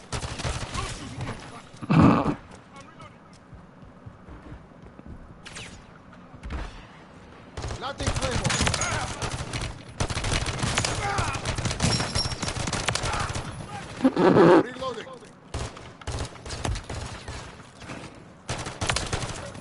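Rapid gunfire from Renetti 3-round burst pistols with 100-round drum magazines fills a Call of Duty Modern Warfare 3 Zombies match, coming in dense loud volleys with brief pauses and a couple of heavier thumps.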